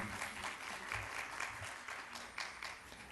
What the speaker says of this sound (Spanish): quisiera que le demos un aplauso y bienvenida pues a nuestra expositora